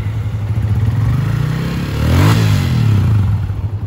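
A motorcycle with its standard stock exhaust runs in a workshop, idling steadily close up before a brief rev swells the engine note midway and then settles back, with no voices.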